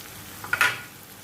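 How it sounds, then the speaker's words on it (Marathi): Ginger-garlic paste stirred and sautéed in a hot pan, a brief soft sizzle with a stirring scrape rising for a moment mid-clip over a quiet kitchen background, no voices. "आपण ते असं व्यवस्थित परतून घ्यायचं जेणेकरून ती व्यवस्थित भाजला जातो आलं लसूण पेस्ट"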